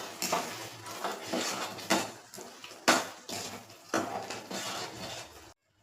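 A spoon scrapes and clinks against a cooking pan as corn curry with fresh coriander is stirred, in about half a dozen rhythmic strokes at close range, ending abruptly in silence.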